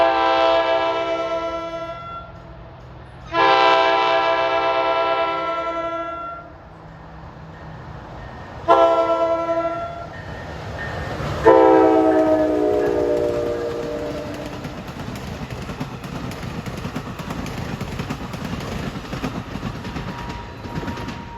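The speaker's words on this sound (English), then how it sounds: "Here comes train 1122, Suffern to Hoboken at 4:22." An NJ Transit commuter train running Suffern to Hoboken passes a station platform, sounding loud, long horn blasts several times before the passing cars rumble and rattle steadily.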